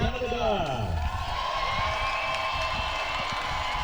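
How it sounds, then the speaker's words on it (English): Spectators cheer for Canada at a junior ultimate frisbee mixed final, a steady roar of crowd noise under a commentator who talks throughout. "And the crowd cheering for Canada here."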